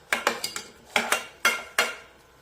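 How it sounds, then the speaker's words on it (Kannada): Cooked toor dal and brinjal are mashed in a metal pressure cooker pot, giving a run of sharp metallic clanks and scrapes in uneven bursts, close and moderately loud with no talk. "ಇವಾಗ ಇದನ್ನ ನಾವು ಸ್ವಲ್ಪ ಮಸಿಯೋಣ."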